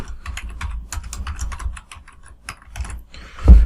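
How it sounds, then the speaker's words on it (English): Keys tapping on a computer keyboard while a name is typed into a Word document, a steady run of close, crisp clicks that ends in a single louder press near the end, with no talking. "I'm going to type my name."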